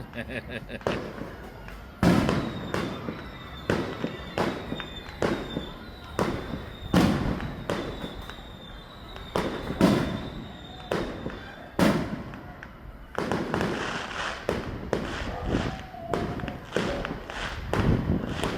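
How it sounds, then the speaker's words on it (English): Repeated fireworks bursts boom and crackle in quick irregular succession, some loud and close, with people talking faintly in the background. "enjoy the fireworks"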